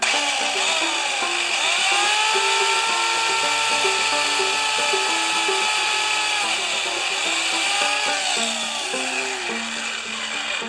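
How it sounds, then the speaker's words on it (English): A loud, steady motorized whine of a chainsaw running continuously, its pitch rising and dipping as it cuts through a tree limb, close by. "I'm about to demonstrate my chainsaw prowess to you"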